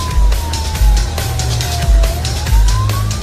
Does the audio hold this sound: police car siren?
yes